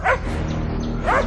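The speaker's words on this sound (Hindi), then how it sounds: "उसका भौंकना तो बंद होने का नाम ही नहीं ले रहा था" A dog gives two short yelping barks, one at the start and one near the end, over a steady low hum.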